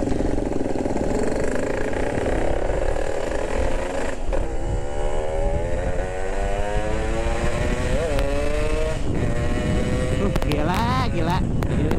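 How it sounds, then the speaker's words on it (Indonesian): A Yamaha RX King motorcycle rides along with a loud, close engine that rises and falls in pitch as it accelerates and shifts, under constant rushing wind noise. "Gila ini motor enak banget sih."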